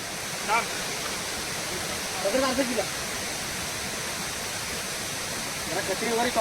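A waterfall near Kudpan village in Konkan gives a continuous roaring rush of falling water, loud and steady, with brief voices of people talking faintly over it.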